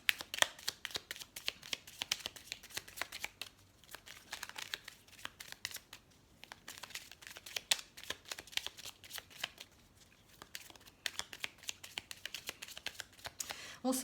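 Tarot cards are shuffled by hand in quick riffling bursts of papery flicks and taps, close and fairly quiet, pausing briefly between runs with no speech over them.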